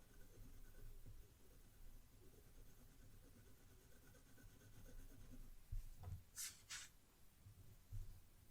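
A 2B pencil shading on paper, a faint soft continuous scratching close by, with a few louder strokes and brief taps toward the end over a low background hum.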